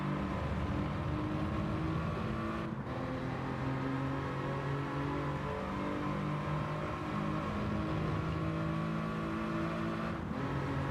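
A race car engine in the Gran Turismo 7 or Rennsport driving game revs hard and continuously, climbing through the gears with brief dips at upshifts, loud and up close with no talking.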